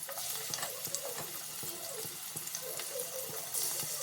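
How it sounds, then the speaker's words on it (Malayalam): Masala-coated chicken pieces dropped one by one into hot oil, a steady broadband sizzle with a few sharp clicks and spatters running throughout, close and fairly loud with no talking. "അപ്പൊ നമ്മൾ മസാല തേച്ച ചിക്കൻ നമുക്ക് ഓരോന്നായിട്ട് ഈ എണ്ണയിലേക്ക് ഇടാം"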